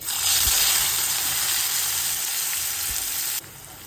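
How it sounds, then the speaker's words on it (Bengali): Onions frying in hot oil in a pan for a Bengali-style chicken dish, a loud continuous hiss and sizzle close by, with a few soft knocks of stirring, dropping slightly in level near the end. "পেঁয়াজটা ভাজা হয়ে গেছে"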